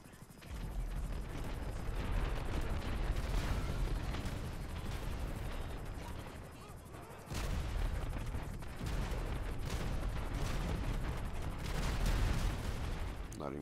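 Dense, continuous gunfire and booming blasts from an FH-1 Hunter helicopter in GTA 5 Online fill the whole stretch, loud and relentless, with a brief dip midway before resuming.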